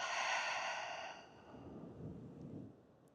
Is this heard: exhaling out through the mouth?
yes